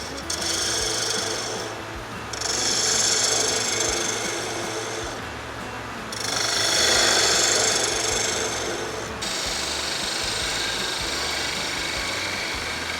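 A bowl gouge cuts the inside of a spalted wood ring box spinning on a lathe, a loud close scraping hiss that swells and eases in several long passes over the steady hum of the lathe.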